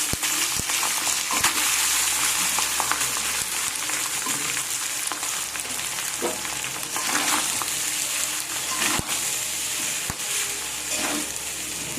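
Cold, previously cooked rice is stir-fried in a pan with bay leaves, giving a steady, loud sizzle and crackle throughout, with occasional scrapes and clinks of a spatula stirring it.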